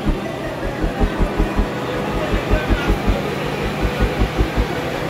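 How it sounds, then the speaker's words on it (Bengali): Gour Express train pulling out of Sealdah station, with a rhythmic clickety-clack of wheels over rail joints in regular bursts beneath a continuous rumble and background noise. "3 মিনিট লেটে ট্রেনটা ছাড়লো গৌড় এক্সপ্রেস।"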